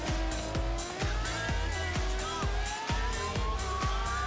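Ferrari FXX K spinning its wheels in Forza Horizon 3, a loud engine revving with rising pitch and a rapid run of sharp, repeated bursts as the tyres break traction, close and alone without talk.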